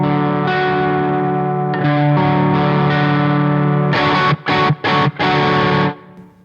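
Electric guitar lick played across four strings through distortion and chorus effects, sustained ringing notes followed by a series of short choppy stabs, alone with no talk.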